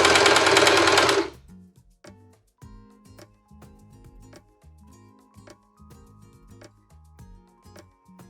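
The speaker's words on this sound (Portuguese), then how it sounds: "aqui eu sigo costurando em cima da mesma listra" A sewing machine stitches striped tablecloth fabric in short rhythmic bursts of rapid ticking needle strokes, close and clear, after a loud noisy rush at the start.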